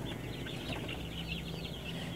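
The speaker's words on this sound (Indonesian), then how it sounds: "Ini update daripada ayam-ayam saya yang berumur 4 minggu dan yang 5 minggu" Joper chickens, four and five weeks old, clucking and peeping steadily in a busy group, faint and continuous with no pauses.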